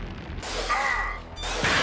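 Hellfire incendiary bomb airstrike in the video game Helldivers on PS4, two loud bursts of crackling, roaring noise with a brief mechanical whine between them, close and punchy.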